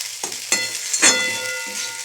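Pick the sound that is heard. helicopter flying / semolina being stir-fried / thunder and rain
semolina being stir-fried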